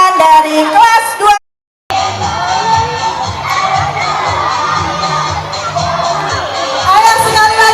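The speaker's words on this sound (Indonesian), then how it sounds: "Ayo sekali lagi beri tepuk tangan untuk adik-adik kita tercinta" Audience at a Bulan Bahasa 2024 event at an Indonesian elementary school cheering and shouting for a children's dance performance, a loud sustained crowd roar with children's voices, interrupted by a brief cut, with amplified speech at the start and end.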